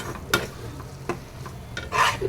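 Prawn roast masala stirred in a pan, soft sizzling with a few sharp scraping strokes of a spoon against the pan, close and fairly quiet.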